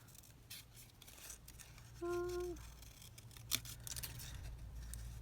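Scissors snipping out paper junk journal cards, a quiet series of short crisp cuts with one sharper snip near the middle, close by over a low steady hum with a brief tonal whine partway through.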